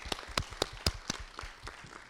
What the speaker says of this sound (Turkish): Biz alkışlayalım.